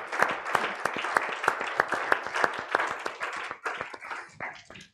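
A church congregation applauds during a service, with a dozen or so sharp, rhythmic claps that thin out and fade toward the end, fairly soft and a little distant.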